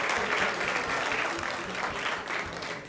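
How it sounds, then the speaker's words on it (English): Sustained audience applause at a Krishna Katha evening gathering, a dense, steady wash of many hands clapping from start to finish with no pause. "So let's give everyone a big round of applause for joining us tonight."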